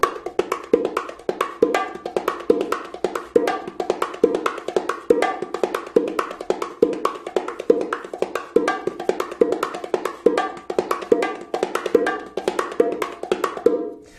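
Steady, continuous hand drumming on bongos in the martillo pattern with an accented left-hand off stroke, crisp strokes with regular accents, played alone without talk.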